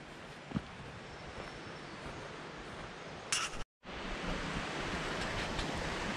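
A river flows at the foot of a cliff near Drysdale Falls with a steady, broad rushing wash heard up close, with brief wind buffeting on the microphone and a momentary dropout partway through.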